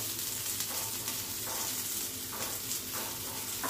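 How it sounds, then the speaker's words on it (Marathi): Onion sizzles and crackles steadily in hot oil for a Malvani mandeli fish dish, with occasional scraping stirs breaking through the constant frying hiss. "कांदा परतवून घ्यायचा आहे तेलामध्ये"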